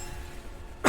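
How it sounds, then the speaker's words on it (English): A single short, close cough bursts out right at the end after near silence. "I'm sorry if you're picking up on that coughing"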